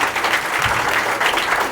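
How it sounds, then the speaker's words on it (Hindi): Students at a civil-services coaching institute in Gopalganj applaud in welcome, a dense, steady burst of close clapping lasting under two seconds. "आज टीमों की एक्टिविटी है तो तालियों के साथ स्वागत कीजिए"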